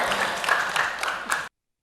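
An audience applauds candidate number 1 at a village head candidates' vision and mission presentation, a short burst of loud, close clapping that cuts off abruptly after about a second and a half.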